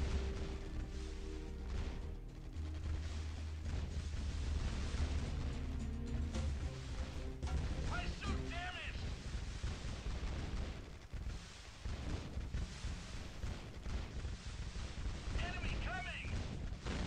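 Grenades fired by assault units burst in the Art of War 3 strategy game, a dense run of pops and blasts over continuous battle noise and music, with commentary talk running over it.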